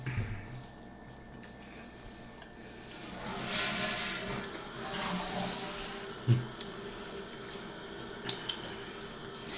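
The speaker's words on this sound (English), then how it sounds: "Sound like good old toilet flush." An indoor household toilet flushes in the background, a faint, distant swelling rush of water that rises and fades, followed by a few soft drips and knocks.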